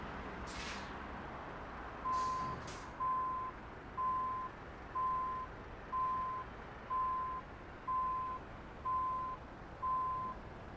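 In Euro Truck Simulator 2, a truck backs up with a trailer, its reversing alarm beeping at a steady, regular rhythm over a low engine rumble, with brief air hisses near the start.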